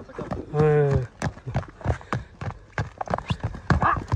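A horse gives a short whinny, then its hooves clip-clop in a quick, uneven rhythm close by as it turns, with speech mixed in over the footfalls.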